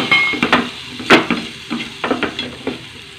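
Tomatoes being stirred into a pan while cooking bread poha, with soft scraping and tapping of a utensil against the pan, light sizzling underneath, close and fairly quiet.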